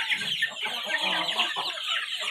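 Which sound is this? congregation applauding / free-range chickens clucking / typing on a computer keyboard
free-range chickens clucking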